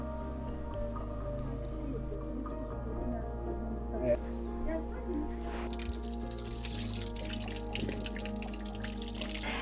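Drinking water believed to be holy, running at a site in Türkiye visited by popes, trickles and drips steadily against a low background hum, with squishy splashes and a brighter burst of flow near the end.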